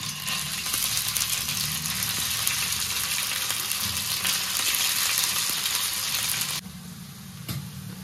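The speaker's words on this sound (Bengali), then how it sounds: "ছোট ফ্রাই প্যানে বসিয়ে দিচ্ছি ভাজাটা।" Gourd dhoka pieces fry in mustard oil in a small frying pan, giving a steady, close sizzle that runs evenly and then drops in level near the end.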